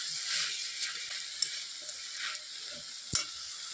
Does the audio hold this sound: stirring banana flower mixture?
yes